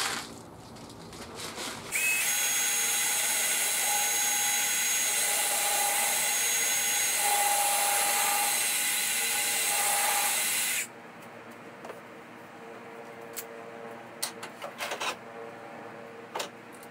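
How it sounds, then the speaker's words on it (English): A power drill whines loudly at a steady pitch for about nine seconds while driving brass wood screws into pre-drilled holes in a wooden cup turner, then stops, leaving faint handling clicks. "Now we're securing the top to the front with some brass wood screws."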